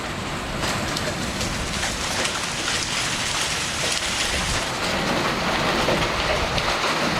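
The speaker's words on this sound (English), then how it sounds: "This is the third hailstorm we've had in a week now." Small hail a bit bigger than pea size batters roofs amid a wicked windstorm, a heavy, roaring wash of pelting and gusts that never lets up, close and loud.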